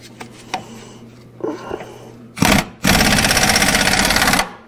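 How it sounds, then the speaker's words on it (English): A nearby impact wrench hammers hard at a stubborn bolt on a Caterpillar D4 crawler tractor, a brief rattling burst followed by a longer, steady, loud hammering run of nearly two seconds after quieter shop noises. "use my impact on it, see if I can break it loose"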